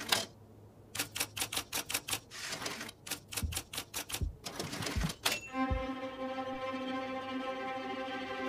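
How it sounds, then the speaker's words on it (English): Rapid bursts of typewriter keystrokes in the video game Murder in Alps, clattering in quick clusters with pauses between, then a carriage bell and a sustained ringing tone at the end. "I think the messages were typed on my typewriter."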